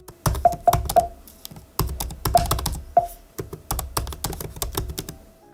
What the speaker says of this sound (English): Typing is okay, nothing bad to say, other than it is a little bit loud.